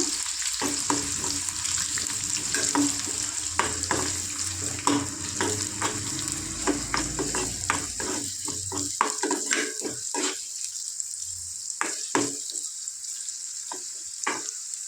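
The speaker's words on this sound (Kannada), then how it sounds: "ಈರುಳ್ಳಿ ಕಲರ್ ಚೇಂಜ್ ಆಗಬೇಕು ಅಲ್ಲಿವರೆಗೂ ಚೆನ್ನಾಗಿ ಫ್ರೈ ಮಾಡ್ಕೊಳ್ಳೋಣ" Chopped onion and curry leaves fry in oil in a pan for ridge gourd curry, a loud continuous sizzle with repeated scraping stirs, then sparser clinks and knocks toward the end.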